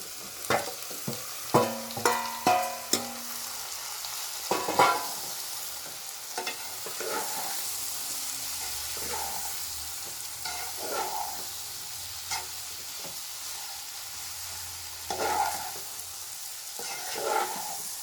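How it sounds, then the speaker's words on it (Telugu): Goat tripe for Telangana-style boti curry fries in a pan with a close, crackling sizzle while a spoon scrapes and clatters in bursts of stirring, then the sizzle settles to a softer hiss between strokes. "బోటి వేస్తున్నాను చూడండి."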